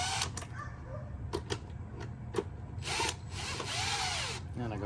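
A power drill whirs in several short bursts, tightening bolts on a Onewheel electric board, with sharp clicks and taps between the close, loud runs.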